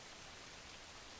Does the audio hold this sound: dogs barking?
no